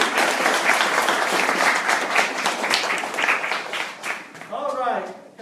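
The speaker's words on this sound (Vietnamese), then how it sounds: "Chúng ta cho một tràng pháo tay kéo." A room full of people at a Labor Day class gathering gives a loud, sustained round of applause that fades near the end as a voice starts speaking.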